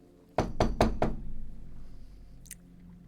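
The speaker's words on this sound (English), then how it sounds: "you hear a knock on the door." Four firm knocks land on a door in quick, even succession, loud and close, followed by quiet room tone and a faint brief click.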